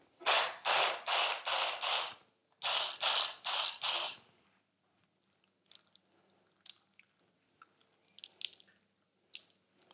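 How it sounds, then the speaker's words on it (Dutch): An electric mixer chops pistachio nuts in several short, loud pulsed bursts over the first few seconds, then falls quiet apart from scattered faint clicks and rattles. "Dus ik ga daar heel even met de mixer door en dan kan ik dat er mooi over strooien."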